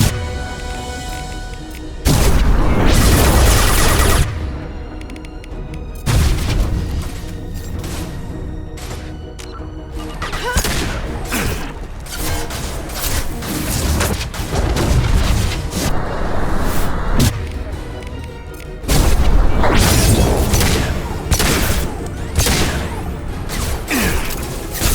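Sci-fi combat in Mass Effect 2 during the Lair of the Shadow Broker mission: loud bursts of gunfire and booming explosions hit repeatedly with short gaps between volleys, dense and close throughout.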